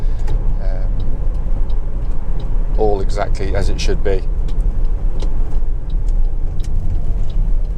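A Toyota RAV4 2.0 D-4D diesel driving on a road gives a steady low road and engine rumble under a voice, with other people speaking briefly midway.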